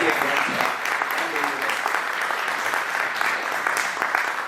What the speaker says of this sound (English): can we hear one more round of applause for Shalaka